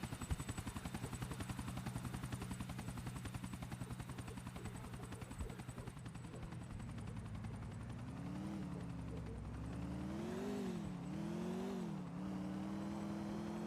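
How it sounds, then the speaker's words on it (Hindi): A helicopter flies in the video game GTA 4, its steady rotor and engine drone running loud and continuous throughout, with a pitch that wavers and rises and falls near the end. "हेलीकॉप्टर"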